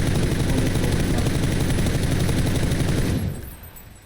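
Sustained automatic gunfire in the PUBG shooter game, a dense, loud burst running steadily for about three seconds before cutting off and fading into quiet.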